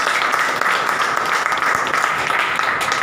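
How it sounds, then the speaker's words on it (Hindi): Audience applause at an education center opening ceremony: dense, steady clapping from a large crowd, loud and continuous throughout, with no talk over it. "उनके लिए जोरदार तालियां।"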